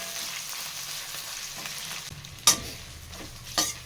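Onions sizzle in a frying pan as they cook toward golden, a steady soft hiss interrupted by two sharp scrapes of a stirring utensil.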